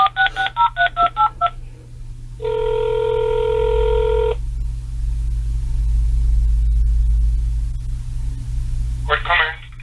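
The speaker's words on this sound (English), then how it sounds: "let's give Gord Comer a call, shall we?" A phone number is dialed in a quick burst of touch-tone beeps, followed by a steady ring tone and then the start of another tone burst, all over a constant low hum.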